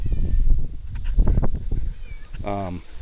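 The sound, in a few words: cat meowing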